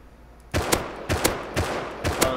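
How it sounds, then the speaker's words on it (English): Gunfire in the game Rust comes in four quick paired bursts of sharp, loud shots, evenly spaced after a brief quiet start, with no voices. "Thanks for shooting me the whole fucking time."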